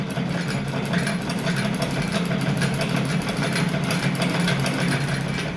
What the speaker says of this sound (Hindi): जब ये मैं सिलाई लगा रहा था, इसको खींच के लगा रहा था।